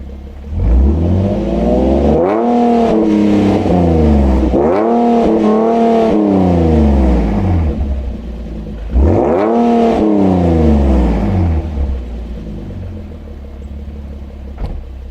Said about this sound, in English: I'm going to try and do a couple revs for you guys real quick.